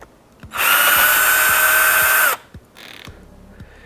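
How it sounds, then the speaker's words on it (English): Hippoo cordless power drill spinning up close and loud, a steady high-pitched motor whine lasting nearly two seconds before winding down, with a few clicks and a faint whir afterward. "this Hippoo drill is affordable, but it does have a lot of power behind it"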